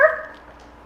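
A single short dog bark, sharp and fairly close, decaying quickly into quiet.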